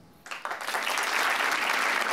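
A live improv comedy audience bursts into applause after a quiet start, a few scattered claps quickly swelling into full, steady clapping that holds to the end.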